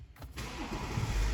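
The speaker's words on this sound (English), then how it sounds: "Now we've got the car started up" A BMW X5 3.0d xDrive diesel SUV cranks and fires up, a short starter whirr catching into a steady rising engine rumble that settles toward idle, close and clear with no talk.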